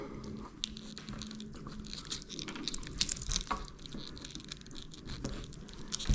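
Diagonal cutters snip through hearing aid battery blister packaging up close, giving a steady run of crisp crunches and plastic crinkles with no talking.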